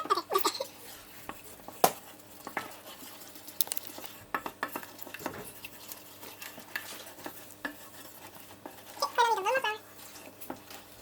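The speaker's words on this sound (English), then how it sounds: "So I'm just going to add a little bit. Stir that in." Flour stirred in small increments into a macaroni pie mixture in a bowl, with repeated scraping and clinking of a spoon against the dish plus soft wet stirring, close and moderately loud, and a brief vocal sound near the end.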